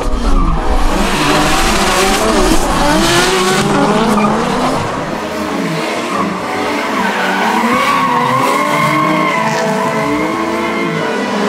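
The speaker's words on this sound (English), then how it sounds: "Turns out it was his first time in a drift car, standard." A drift car on a hot lap at Mt Smart Stadium howls with loud sustained tyre squeal and a revving engine that rises and falls, close and continuous, with no voices.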